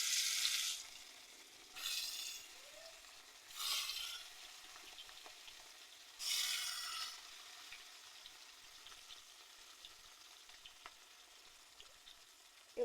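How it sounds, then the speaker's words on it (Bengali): Marinated fish fries in oil in a wok: four loud bursts of sizzling, each fading quickly, with a quiet low hiss and faint crackles between them. "এবার কড়াইতে মাছগুলো দিয়ে দেবো।"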